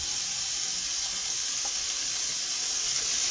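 Vegetables and growing onions sizzle in oil in a pan, a steady, close, loud hiss that runs the whole time with no talking.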